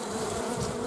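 Honey bees humming inside a hive full of bees, a close, dense, steady buzz over a short moment.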